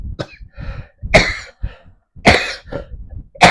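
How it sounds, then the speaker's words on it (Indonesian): A man coughs repeatedly in rough, throaty bursts, three strong hacks spaced about a second apart with smaller coughs and throat-clearing between them, close and loud with no talking. "Batuk-batuk ya Allah"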